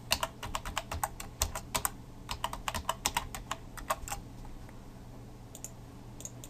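Quick bursts of keystrokes clatter on a computer keyboard while a username and password are entered at a WordPress login, irregular clicks with short pauses, then sparser taps near the end, fairly close with no talk.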